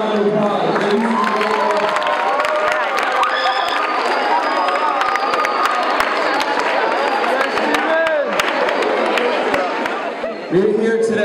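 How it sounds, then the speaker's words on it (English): A crowd in a middle school gathering cheers, shouts and claps for students of the LEADS program, a loud, lively mix of children's voices and scattered applause that stays busy throughout. "Let's give these guys a round of applause"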